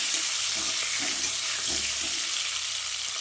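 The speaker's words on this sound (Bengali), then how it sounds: "এবার ডিমগুলোকে ভালো করে ভেজে নিব" Eggs fry in mustard oil in a wok, giving a steady, close hiss of sizzling with faint scraping knocks underneath throughout.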